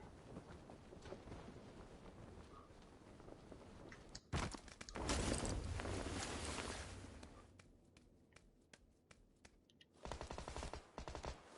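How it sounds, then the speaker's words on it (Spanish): Bursts of automatic gunfire from PUBG played on PS4, loud clustered volleys around the middle and again near the end, with wind-like game ambience between shots and no talk. "Le disparo en el aire"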